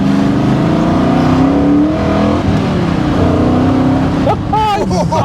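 A modified TVR Griffith 500 engine revs hard and loud up close, its rising, wavering roar filling the clip, with excited voices over it near the end.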